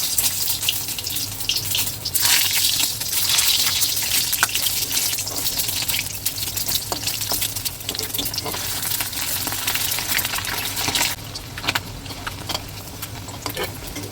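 Boiled eggs frying in hot oil in a wok, a steady loud hiss and sizzle with brisk crackling spatters running throughout, close up and with no talking.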